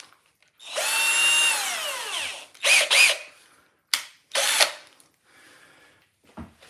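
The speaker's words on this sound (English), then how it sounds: "I'm going to drill now into the face." A power drill whines up to speed and bores into the wooden face of a birdhouse, followed by a few shorter bursts of drilling and a faint clunk at the end.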